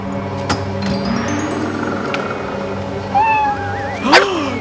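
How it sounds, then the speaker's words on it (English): A cat meows and yowls in a tense, drawn-out caterwaul, rising near the end with a louder cry, heard alone against a faint background hum. "it's the cat!"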